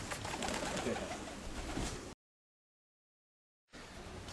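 Racing pigeons coo steadily and fairly close for about two seconds, then the sound cuts to silence before the cooing resumes briefly, with no talking.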